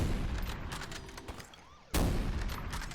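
Reverence gun fires in the video game SYNTHETIK 2, a rapid volley of sharp gunshots that thins out, followed by a sudden loud blast and dense ringing shots to the end.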